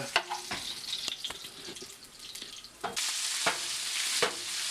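Shrimp cooking in a hot pan, a close, steady sizzle with a handful of sharp scraping and tapping strokes from a utensil, and the frying swelling louder toward the end.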